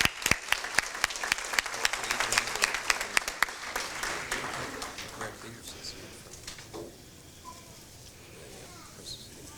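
An audience at a Kiwanis awards banquet applauds students, brisk clapping loud at first then thinning and fading over several seconds into quieter room murmur.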